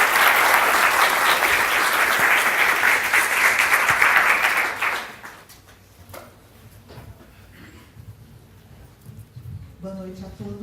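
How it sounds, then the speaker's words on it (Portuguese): Loud, dense audience applause fills a packed university auditorium before a lecture, holding steady for about five seconds, then cutting off to quiet room noise with faint shuffling and a brief voice near the end. "Com o carinho de vocês, com o aplauso de vocês"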